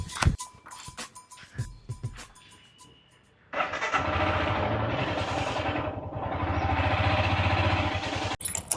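A motorcycle engine cranks and catches at about three and a half seconds, then idles and revs loudly and steadily, preceded by scattered clatter and knocks.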